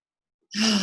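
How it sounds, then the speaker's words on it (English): Deep breath drawn in during a guided meditation, starting after half a second of silence and continuing as a steady, close, breathy rush with no talk over it. "start to just focus on our breath, breathing deeply in"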